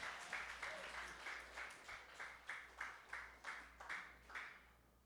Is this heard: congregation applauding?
yes